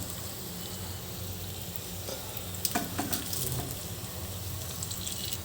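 Onions, green chillies and curry leaves fry in a pan with a steady, close, dense hiss and crackle, a few sharper pops and stirring scrapes rising briefly near the middle.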